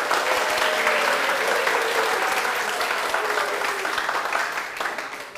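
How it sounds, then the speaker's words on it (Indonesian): Sustained audience applause at an open mic stand-up comedy show, a dense, lively round of clapping that carries on evenly before tapering off at the end. "Tepuk tangan dulu untuk Almer tadi"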